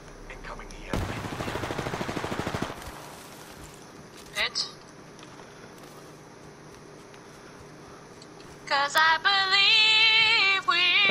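Gunfire in Apex Legends: a sustained burst of rapid automatic shots near the start, then a couple of isolated bangs, while players talk and an in-game tone rises at the end.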